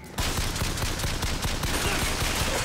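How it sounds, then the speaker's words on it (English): Rapid gunfire in the video game Bioshock Infinite, a dense continuous burst of shots hammering away loudly and close for the whole stretch, with no talk over it. "Why are you shooting at me?"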